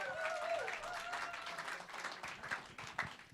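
Audience at a polka band show applauds the band, a mix of scattered individual claps and crowd clapping at moderate level with a few sharper nearby claps standing out.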